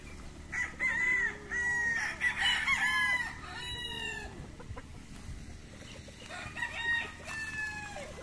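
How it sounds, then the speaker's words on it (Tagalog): Several roosters crow loudly one after another on a gamefowl farm in Tugbok, Davao City, their drawn-out calls overlapping with softer clucking from nearby chickens. "Dami silang manok dito, guys."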